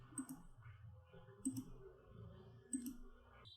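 Computer mouse clicks during Power BI dashboard work: three faint, sharp clicks spaced roughly evenly over a few seconds, heard alone against a quiet room background.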